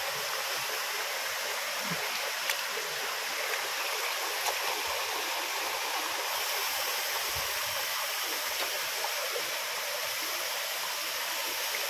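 Steady, close rush of river water flowing in a village setting, a continuous broadband wash with faint gurgles and no voices.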